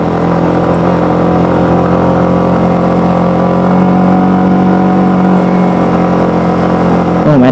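Automatic scooter engine on a road near Karang Bolong, Kebumen, droning loud and steady as it is throttled up while riding uphill, with no talk.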